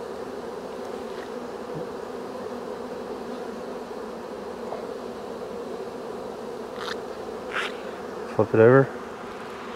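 Honey bees hum steadily around hive frames at close range in a constant drone, while a person speaks briefly near the end.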